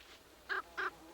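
Two harsh, crow-like bird calls in quick succession, moderately close, over a faint steady background hum.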